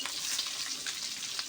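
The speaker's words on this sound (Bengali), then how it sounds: "একটু কড়া করে ভেজে নেব মাছটা" Pieces of silver carp fry in hot oil, giving a dense, continuous crackling sizzle, close and moderately soft, with no voices.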